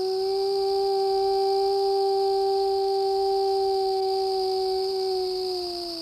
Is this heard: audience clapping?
no